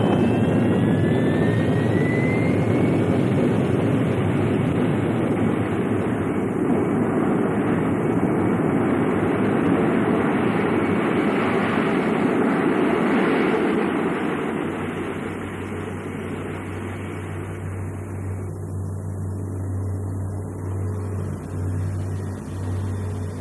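A simulated spacecraft take-off builds into a loud, sustained jet-like roar with a rushing broadband wash, later settling into a steadier lower drone with a deep hum underneath.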